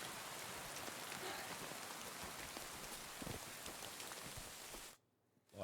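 Steady, faint rain patters and drips through the rock inside a cave in a video game. The even spatter continues without speech and then cuts off abruptly near the end.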